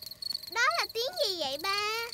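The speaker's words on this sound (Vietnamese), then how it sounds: "Đó là tiếng kêu của những chú dế đó con." Crickets chirp in a cartoon nature scene, a steady run of bright, buzzy trills in quick pulsing bursts that sound stylised and close, with no talking.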